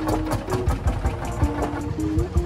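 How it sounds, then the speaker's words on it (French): An old tractor engine at a vehicle show chugs and knocks unevenly at idle, briefly dying down then suddenly picking back up, its rough rhythmic pulses close and steady with slight stumbles. "Son moteur est assez étrange parce qu'il s'éteint un petit peu et puis il se relance d'un coup."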